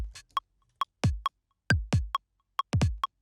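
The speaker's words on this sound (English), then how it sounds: "After our kick, I've just got the hi-hat, and this just sits on every other offbeat." Punchy electronic UK garage kick drum hits with short, bright hi-hat ticks on every other offbeat between them, in a steady repeating beat pattern, dry and close.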